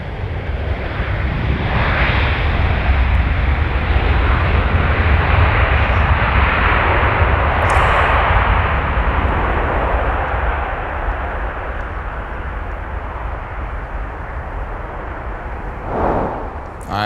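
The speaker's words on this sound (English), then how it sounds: "let's take another look at our arriving 737" A Boeing 737 airliner arriving at MSP airport, a loud, sustained roar of jet engines that swells and then gradually eases as the plane passes, with no talking.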